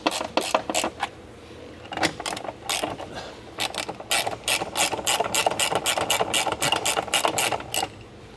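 A hand ratchet with a 1/2 inch deep well socket tightens seat bolts on a Bobcat, producing repeated bursts of sharp, close clicking in quick strokes with short pauses between runs.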